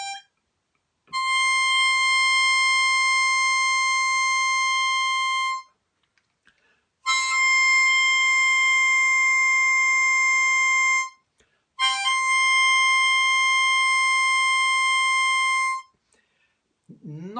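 A Hohner Marine Band Deluxe harmonica with a double reed plate plays hole 7 as three long sustained tones, each lasting several seconds and separated by short silences, bright and clear with nothing else heard.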